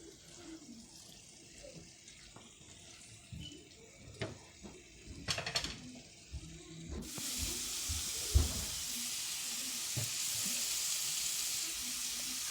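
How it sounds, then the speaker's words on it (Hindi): Lamb liver sizzling as it fries on a tawa, a quiet clatter of stirring first, then a steady loud hiss of frying that continues with small pops and knocks, with no talking. "हम इसे अच्छी तरह से भूनेंगे"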